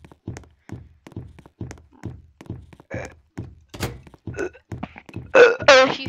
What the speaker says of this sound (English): If you hear those hyper realistic burps,